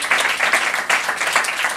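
Congregation clapping together during a Korean Saturday worship sermon, a dense, steady round of applause filling the room with irregular hand claps for under two seconds.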